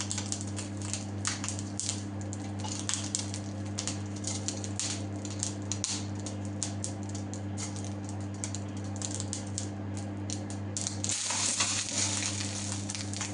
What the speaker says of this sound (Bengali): আমার পাত্রটা গরম হয়ে গেছে এখানে ড্রাই চিলিগুলি ঢেলে দিলাম